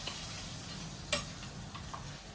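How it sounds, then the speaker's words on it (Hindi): Hot tadka tempering poured into a salad, giving a steady, faint sizzle and crackle with a sharp pop or spatter midway and a few smaller ticks after. "और ये तड़का हमारे सैलेड में जाता हुआ।"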